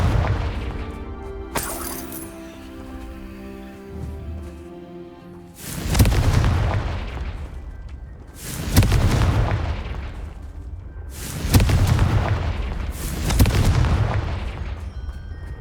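Confringo fire spells explode in Hogwarts Legacy, four loud booming blasts spaced a few seconds apart. Each is followed by a crackling, rumbling decay, and faint musical tones sound early on.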